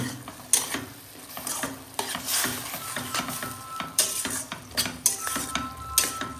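Food seasoned with lemon, chilli powder and coriander is stirred in a metal pot, with repeated scraping and clinking strokes of a spoon in an uneven rhythm, close and fairly quiet.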